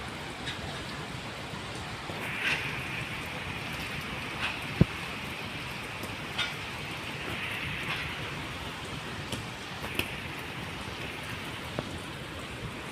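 Steady rain falls on surfaces in Vientiane, a dense even hiss with scattered louder drops and faint distant rumbles, no voices.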